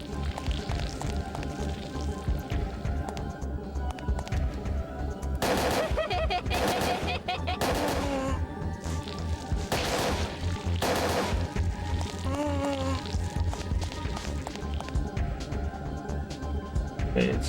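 Gunshots in Parasite Eve 2, a series of sharp loud blasts clustered in the middle, fired over a steady droning game background with some cackling enemy sounds.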